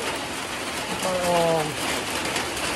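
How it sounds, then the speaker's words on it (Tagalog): Heavy rain pours down outdoors in a steady, dense hiss, with a brief tonal chirp or voice-like sound partway through. "Ulan na naman. Lakas na naman."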